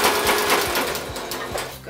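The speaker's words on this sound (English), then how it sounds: "So because it's top stitching, doing it on the sewing machine" A sewing machine runs steadily, zigzag top stitching jersey knit through a walking foot, with a continuous whirring drone and rhythmic needle thumps close by, loud and unbroken throughout.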